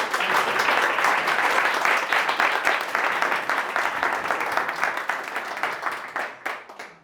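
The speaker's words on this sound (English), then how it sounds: "this lady deserves a very warm round of applause" A warm round of audience applause at a leadership event, dense clapping that stays strong at first and then thins into scattered claps as it fades.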